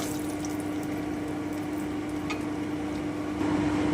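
Oil sizzles in a pan after chili powder, salt and turmeric go in, a steady close hiss and crackle that swells slightly near the end, with no talking.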